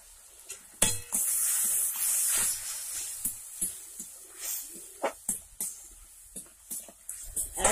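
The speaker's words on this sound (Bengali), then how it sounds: "১ মিনিট আমি এইভাবে নাড়তে থাকবো" Egg tadka is stirred in a hot pan in a village-style kitchen, a steady sizzling hiss broken by repeated scraping knocks of the spoon against the metal, close and fairly loud.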